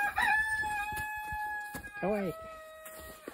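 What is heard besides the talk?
silkie chickens clucking on a farm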